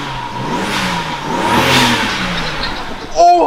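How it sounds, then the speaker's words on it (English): A turbocharged BMW E60 engine revs hard, its roar swelling and easing over a loud steady rumble, with a brief voice cutting in near the end. "the turbos sound so nice"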